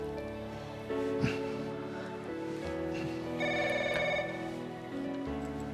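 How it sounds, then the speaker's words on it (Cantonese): A mobile phone rings indoors in a Hong Kong TV drama scene. A bright, repeating electronic ring tone rises mid-clip over a steady, faint tonal background, with no talk. "我出去聽我電話先啊"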